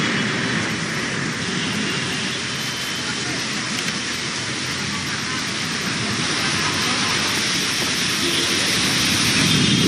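Continuous heavy rain falls on Kolkata during a thunderstorm, a dense, even roar of rainfall that stays loud and unbroken throughout, with no voices heard.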